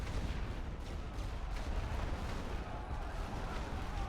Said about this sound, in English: Chargez l'artillerie de barrage sur cette position.